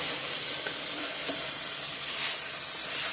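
Chicken livers for dirty rice sizzle and fry steadily in a pan, a bright continuous hiss with faint scraping stirs, swelling louder toward the end.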